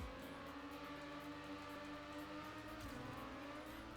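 Car engine sound in the racing game Trackmania Nations Forever: a steady, faint electronic engine drone that holds a constant pitch, with a slight shift near the end and no talk over it.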